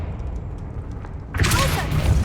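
A Confringo spell blast goes off in Hogwarts Legacy, a video game. A quiet, low background suddenly gives way to a loud, bright burst that keeps roaring and crackling to the end.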